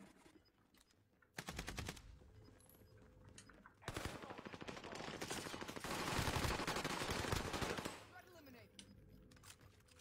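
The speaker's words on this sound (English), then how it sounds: "I just shot the fuck out of you then" Bursts of rapid automatic gunfire from a first-person shooter video game, a short volley followed by a longer sustained stretch of shooting, loud and close, with faint player chatter in the quieter gaps.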